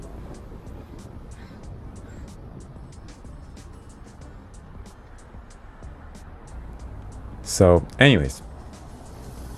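A car drives through downtown Vancouver traffic around Hastings and Main Street, a low steady road hum under a voice, with a brief loud vehicle passing close near the end.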